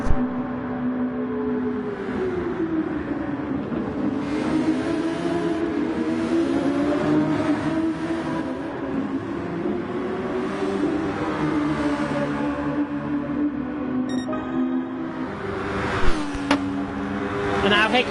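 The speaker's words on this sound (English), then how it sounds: "I will leave you with the sound of these cars" Super Formula race cars lapping Suzuka in a sim race, a continuous high engine drone rising and falling with gear changes, loud throughout, with brief voices near the end.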